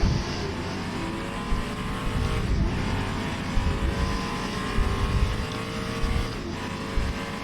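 Racing car engine in rFactor 2 on the 1985 Mount Panorama circuit at Bathurst, a loud continuous roar that builds and climbs through the revs, close and steady with brief dips between gear changes.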